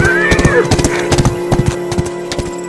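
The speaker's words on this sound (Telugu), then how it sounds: "ఈ చుట్టుపక్కల ఎక్కడో గుర్రం పరిగెడుతుంది." A horse galloping close by in a 19th-century period film scene: quick, heavy hoofbeats in an irregular clip-clop rhythm, with a whinny early on.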